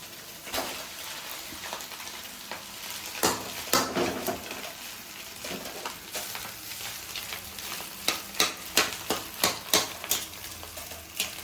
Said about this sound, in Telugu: ఇప్పుడైతే ఇందులో రైస్ వేసేసుకోవాలి.